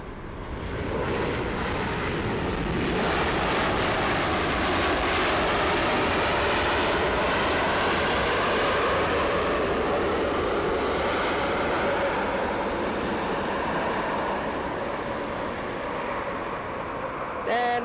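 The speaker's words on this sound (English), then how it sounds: "787-9 coming in. Love seeing our Qantas from down under." A Qantas Boeing 787-9 airliner comes in to land, a loud sustained roar of jet engines and rushing air that holds steady for many seconds before easing slightly at the end.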